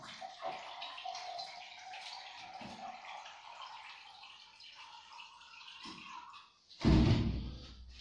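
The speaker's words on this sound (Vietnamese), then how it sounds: "Chờ em rót cốc nước đã" A glass being filled with water, a thin continuous trickle rising in pitch for several seconds, then a louder sudden clunk or splash near the end, close by.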